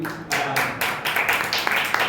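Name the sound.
congregation clapping in church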